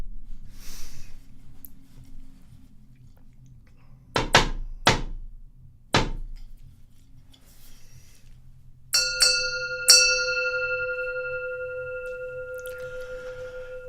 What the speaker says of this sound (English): Hearing the sound of the bell, all thinking is cut off.